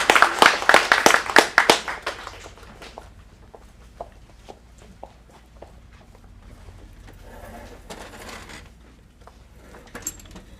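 Scattered hand claps from a small audience at an adult acting studio script showcase in Phoenix, loud and dense at first, then thinning to a few sporadic claps and quiet shuffling.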